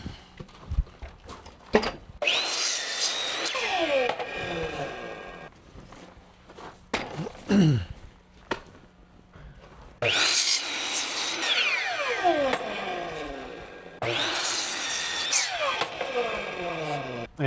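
A power tool cuts pressure-treated plywood for a pig shelter sled in loud, sustained bursts separated by pauses, with clattering handling sounds and occasional talk between cuts.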